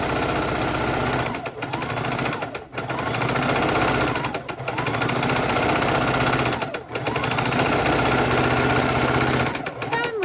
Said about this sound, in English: I am chain stitching all of my 10-inch squares and having a blast